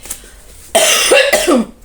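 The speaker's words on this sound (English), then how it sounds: "Oof, cough." One harsh, close cough, a couple of rough bursts lasting about a second.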